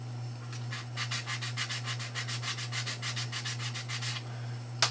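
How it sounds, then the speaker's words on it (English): Rapid back-and-forth strokes of sandpaper working over a plastic model spaceship wing, a steady rhythmic scratching of about twenty close, even passes under a constant low hum, with no talking. "let's go back and sand this up here"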